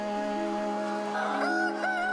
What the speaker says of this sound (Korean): 닭들은 영문도 모른 채 마지막까지 먹이 활동을 합니다.